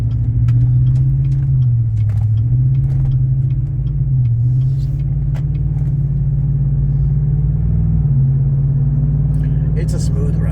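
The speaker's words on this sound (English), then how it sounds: "It's a smooth ride. You can hear the tires a little bit, but nothing crazy." A car cruises steadily with a constant low engine drone and road rumble from the tires, interior perspective, with faint ticks and rattles.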